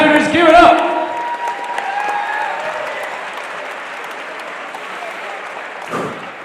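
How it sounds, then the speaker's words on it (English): Loud, dense applause from an arena crowd at an MMA cage fight, swelling at first and then holding a steady roar of clapping, with a brief voice and some tonal sound early on. "let's get another big round of applause for these two competitors"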